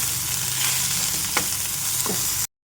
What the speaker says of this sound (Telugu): వీటిని కూడా చక్కగా అటు ఇటు తిప్పుకుంటూ ఫ్రై చేసుకోవాలి